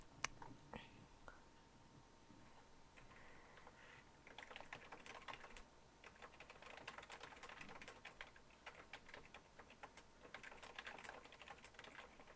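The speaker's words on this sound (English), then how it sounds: "I'm typing something in the chat" Someone types on a computer keyboard in bursts of quick, light key clicks, close but faint, with soft background hiss and a brief whisper-like sound early on.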